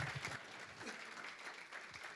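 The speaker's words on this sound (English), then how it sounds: "Let's give them another round of applause" Applause from a workshop audience, a steady wash of clapping at moderate distance with a faint voice or two underneath.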